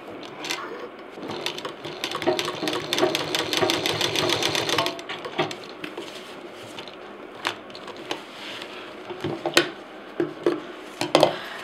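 A sewing machine stitches around the edges of fabric for a DIY backpack with a bottle case, running in a fast, steady burst for about five seconds, then giving way to shorter, scattered stitching runs and clicks.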